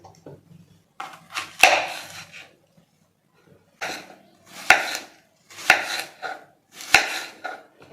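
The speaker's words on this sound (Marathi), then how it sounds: "सगळ्यात अगोदर आपण स्टीलचा चाकू वापरणार आहोत आणि मग नंतर हे ॲपल कापणार आहोत" A steel knife cuts through an apple in a kitchen: several short, crisp bursts of slicing and crunching come in irregular groups with brief pauses between them, close and fairly clear, with no talking.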